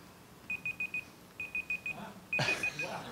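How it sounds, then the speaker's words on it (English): A timer goes off during a panel discussion, sounding three bursts of four quick, high electronic beeps, fairly faint, with a brief shuffle or clatter near the end of the last burst. "That was his timer going off."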